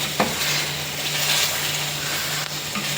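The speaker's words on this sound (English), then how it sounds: "Giving it one final mix." Aloo matar curry with freshly chopped coriander leaves being stirred in a pan, a continuous close sizzling and frying hiss with soft scraping, no voices.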